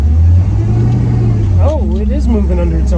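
A 1967 Pontiac GTO muscle car engine rumbles loud and close as it pulls away in first gear, a steady low drone with voices talking over it.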